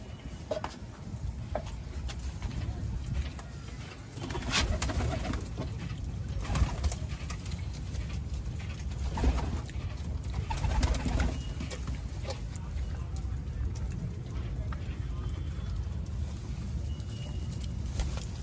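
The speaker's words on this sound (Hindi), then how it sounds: "ये हैं भाई अपने कबूतर" Hyderabadi pigeons coo close by in a low, continuous murmur in a Delhi loft, with rustling, shuffling and scattered clicks mixed in.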